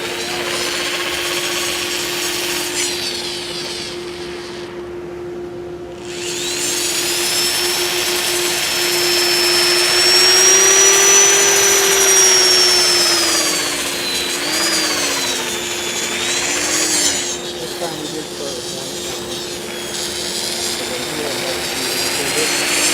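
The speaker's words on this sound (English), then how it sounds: "Now the dust collector is running." A woodshop dust collector runs steadily throughout with a constant droning hum while a walnut platter is worked, and a person talks over it.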